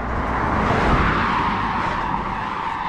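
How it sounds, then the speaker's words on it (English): A car swishes along a road on a quiet Sunday morning, a steady broadband rush of tyres and engine that swells slightly and stays loud for the whole stretch, with no voices. "Apart from the occasional car."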